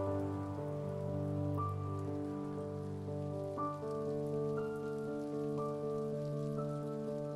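Steady rain in the video game Heavy Rain pattering over a sustained, layered musical backdrop with recurring tonal notes; no voices, constant and fairly loud throughout.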